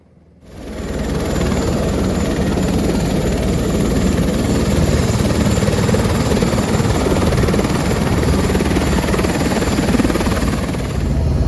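A tour helicopter flies over Niagara Falls in winter. A loud, steady rotor and engine roar swells within the first second and then holds constant, close and alone.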